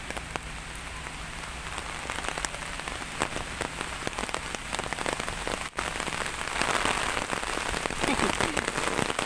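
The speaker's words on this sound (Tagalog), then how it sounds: "Lakas ng ulan." Heavy rain hammers down in a loud, continuous roar of dense spatter on surfaces, swelling slightly stronger toward the end.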